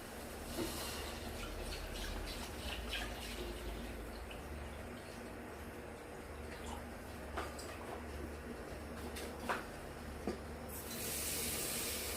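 Water runs into simmering chicken stock for Filipino pancit, a soft continuous stream in a kitchen with occasional light clinks and taps, fairly faint overall.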